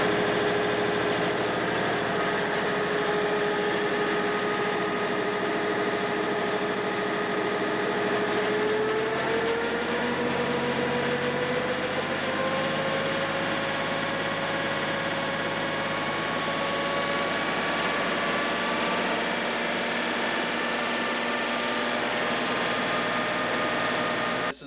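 A generator driven off a tractor's PTO shaft runs steadily at close range, a loud continuous engine drone with a humming tone that shifts and settles in pitch as it comes up to speed, with no talking.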